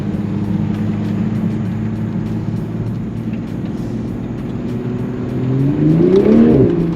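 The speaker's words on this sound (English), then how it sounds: "That inline 6 is so fast." A Toyota Supra MK5's inline-six engine pulls hard in sport mode, a loud, steady drone from inside the car that rises in pitch and swells toward the end as it accelerates.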